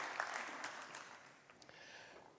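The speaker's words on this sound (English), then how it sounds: "warm round of applause" An audience at a conference plenary session applauds, a dense wash of clapping at moderate distance that gradually thins and fades over a couple of seconds.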